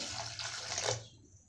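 Water pours briefly and steadily into a drumstick sambar mixture of salt and spices, a soft close splashing rush that stops after about a second.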